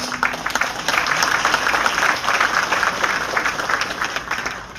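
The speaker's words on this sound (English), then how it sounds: "I'll ask you to give yourselves, most of you are teachers in here, a round of applause" Teachers at an outstanding teacher award event applaud themselves: dense, steady clapping from a roomful of people lasting the whole stretch, fairly loud and close, with a faint voice beneath.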